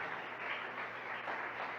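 Church congregation applauding a pastor during a service, a steady, fairly distant wash of many clapping hands with no talk over it.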